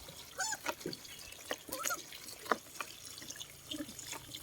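Water running and splashing while pets are bathed, a faint close trickle with intermittent spatters and small knocks, with no talking over it.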